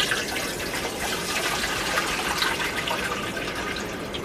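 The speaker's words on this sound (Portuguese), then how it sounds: "Então eu vou pegar, colocar dentro da numa panela a água." Water pours steadily into a large cooking pot as food is prepared for many people in a village, a continuous close splashing and filling rush with no talk over it.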